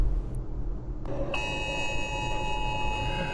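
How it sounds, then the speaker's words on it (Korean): An earthquake warning alarm sounds in a car driving through Taroko National Park in Hualien, Taiwan, during a major earthquake, a sudden sustained high electronic tone that starts about a second in and keeps ringing over the engine hum. "갑자기 지진 발생을 알리는 경보음이 울립니다."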